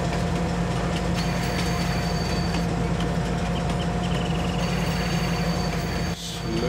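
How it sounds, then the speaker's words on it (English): Train from a farming video game easing its speed as it pulls into a wholesale depot, a steady loud rumble of wheels and rail noise with faint squeals, continuous throughout and briefly dipping near the end. "Gotta slow this train down here."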